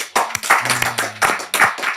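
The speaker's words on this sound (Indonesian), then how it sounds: "tepuk tangan buat Ustadz Yahya Waloni." Close, distinct handclaps in uneven bursts as a speaker is welcomed at an Islamic talk, a few people clapping sharply with brief gaps and a low hum in the background.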